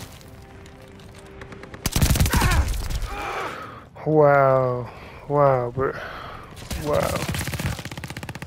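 Bursts of automatic gunfire and explosions from a Call of Duty: Vanguard Hardpoint match on the Tuscan map, loud broadband cracks punctuating the clip while a player talks and exclaims over the shooting.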